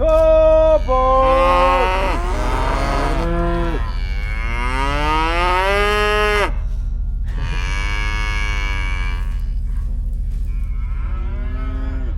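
Several cows moo loudly and close by on a Canadian farm, long drawn-out calls following one another with a steady low rumble beneath.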